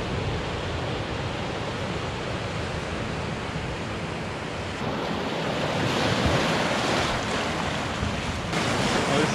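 Ocean surf rolls and washes at the rocks and rock pool of McMasters Beach, a loud, continuous roar of breaking waves mixed with wind buffeting the microphone.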